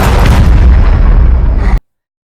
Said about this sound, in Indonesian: ternyata yang menembak adalah Eve